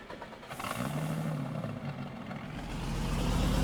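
Modded truck engine in Farming Simulator 19 idling and then pulling forward, a steady low rumble that swells louder toward the end, with no other sounds over it.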